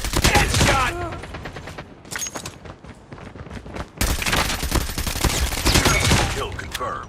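Rapid bursts of gunfire from a Call of Duty match, loud and dense, in two long stretches split by a brief quieter gap near the middle, with a voice talking over parts of it.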